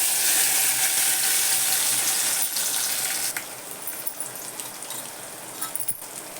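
Cumin and mustard seeds sizzle and crackle in hot oil in a pan, giving a steady bright hiss that starts loud and eases slightly partway through, with scattered small pops.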